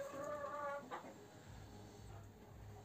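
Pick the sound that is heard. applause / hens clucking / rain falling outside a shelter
hens clucking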